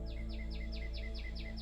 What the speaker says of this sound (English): I love hearing and seeing the world come alive, the birds chirping